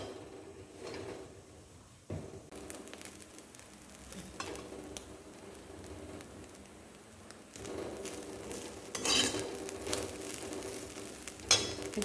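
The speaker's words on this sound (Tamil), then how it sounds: "அதனால் இந்த தேங்காவை நல்லா செவக்க வறுத்துக்கணும்" Grated coconut roasting in ghee in a pan, with a soft steady sizzle and occasional scraping and stirring clatter, moderately close and without talk.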